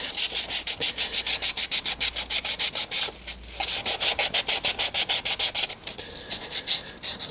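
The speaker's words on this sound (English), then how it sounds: "So if I wanted to sand the corner off, yeah, that sands very nicely." Free Form Air terrain-building material is sanded by hand, a close, rhythmic rasp of quick back-and-forth strokes, about two or three per second, steady and alone with a brief pause midway.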